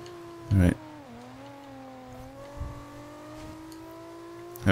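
Racing car engine from the Forza Horizon 2 driving game during a circuit race, a steady droning hum with slowly shifting pitch as revs rise and settle, with brief louder bursts at the start and end.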